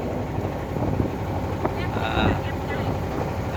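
A boat travelling across a haor wetland, heard as a steady rumble of motion and water with heavy wind buffeting the microphone throughout, faint voices underneath.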